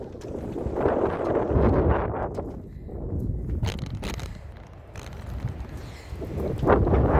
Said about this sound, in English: Get out of this wind.